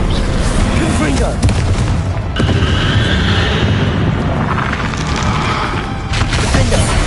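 Repeated fire-spell blasts in Hogwarts Legacy on PS5, a loud continuous booming roar of explosions layered with crackling bursts, dense and close, with a voice calling out over the chaos.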